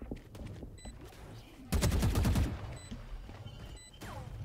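A short burst of rapid automatic gunfire in Valorant bursts out amid quieter game sounds, with faint chirps and effects around it.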